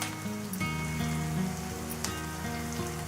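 Ginger garlic paste sizzles in hot oil for an Andhra-style mutton and drumstick curry, a steady close crackling fry with faint tonal background music and no talk.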